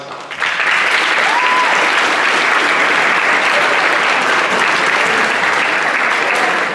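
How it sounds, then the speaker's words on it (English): Loud, sustained audience applause fills a school's 8th grade academic awards assembly, dense clapping that holds steady from start to finish with no voices above it. "I think we owe them a big round of applause"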